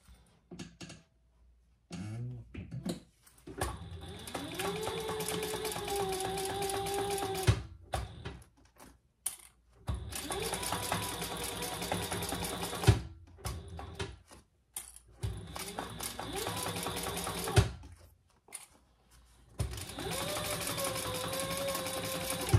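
A sewing machine stitches a seam on a waist pack in several separate runs, each a steady mechanical hum with a rising motor tone, broken by quiet pauses and soft handling clicks.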